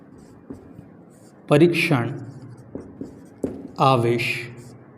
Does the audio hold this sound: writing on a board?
yes